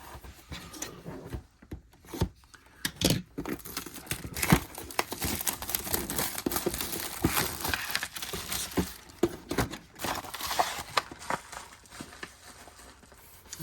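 Plastic wrapping is peeled and pulled off a collectible, giving faint, intermittent crinkling and rustling in close quiet bursts, with no talking.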